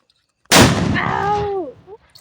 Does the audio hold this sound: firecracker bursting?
yes